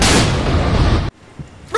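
A Diwali firecracker bomb goes off with a loud, sustained blast that cuts off abruptly, followed by near silence, a faint pop and the onset of another sharp burst at the end.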